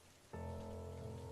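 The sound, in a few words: rain falling during a storm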